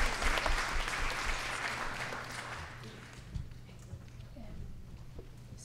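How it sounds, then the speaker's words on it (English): Audience applause welcoming two guests at a Farmworker Justice Day gathering, loud at first and tapering off over several seconds, with faint low hum and scattered noises beneath. "Un round of applause for Ramón y Rosalinda"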